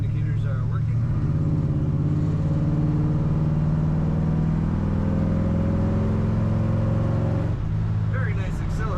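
A 1966 Ford F100 pickup with an automatic transmission accelerates, its exhaust rumbling loudly and steadily close by before the revs ease near the end, with a voice talking over it.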